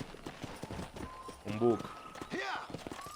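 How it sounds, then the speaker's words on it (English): Horse hooves clopping with a brief whinny in the Western video game Red Dead Redemption, heard in short bursts beneath excited talking. "Cuando cabalgues junto a una persona puedes mantener A para ir a la misma velocidad"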